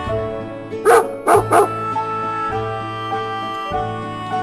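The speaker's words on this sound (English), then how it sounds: "A dog." A dog barks three quick, loud times in close succession over a steady musical backing.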